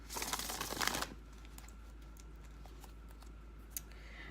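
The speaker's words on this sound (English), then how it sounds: "We'll cut the deck." A tarot deck riffles and shuffles briskly for about a second, then is cut, with faint, sparse taps and handling noises in a quiet room.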